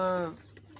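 A pigeon on a rooftop in Jhelum gives a short, close coo that fades after a fraction of a second, leaving a quiet low background hum.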